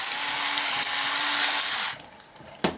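A handheld electric salt and pepper grinder whirs at close range in a home kitchen making pizza sauce, a loud steady buzzing grind lasting almost two seconds before it cuts off, followed by a couple of light clicks.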